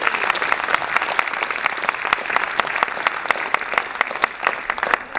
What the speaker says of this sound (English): Big round of applause for Adrian.